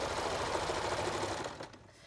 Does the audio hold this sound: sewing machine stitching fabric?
yes